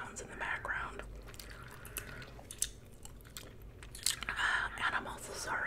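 Soft, close gum chewing with wet smacks and crunches runs under quiet whispered speech.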